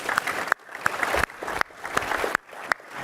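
Audience clapping at a presentation event comes in repeated short bursts of applause, each a few fractions of a second long and separated by brief pauses, moderately loud.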